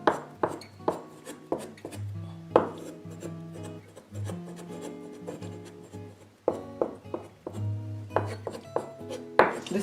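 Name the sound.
knife cutting and shaping cookie dough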